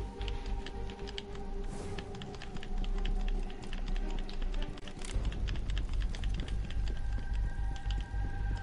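Clicky computer keyboard typing patters away quietly in the background during a Destiny 2 gaming session, with steady irregular key taps over a low hum and continuous rumble, no one speaking.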